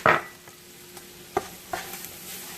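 A spoon scrapes and taps through a flour and butter roux in a skillet, several short clicks and strokes over a faint sizzle, close and fairly quiet, with no talk.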